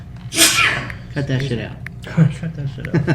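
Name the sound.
sneeze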